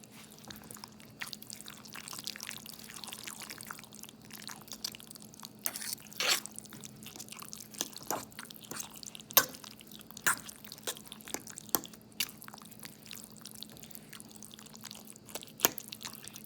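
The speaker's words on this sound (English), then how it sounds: "I'm gonna add the 1 egg and mix that up" An egg being mixed into a pan of cornbread dressing, heard as soft wet drips, squelches and light scraping clicks that repeat unevenly at close range, fairly quiet and with no talking.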